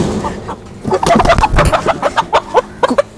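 A local farm chicken clucks close by in a busy run of short, repeated clucks and squawks, loud and irregular, with little other sound around it.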